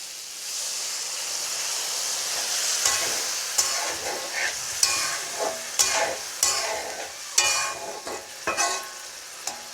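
Fried potatoes for a singara filling sizzle and hiss steadily in a pan as water is added, with repeated sharp clinks and scrapes of stirring rising above the loud, continuous frying noise.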